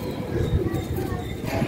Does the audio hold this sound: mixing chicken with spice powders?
no